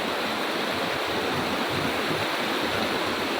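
Clear river water rushing steadily along the Panjupian River in South Aceh, fed from between mountains; a loud, dense, continuous wash fills the whole clip without any voices.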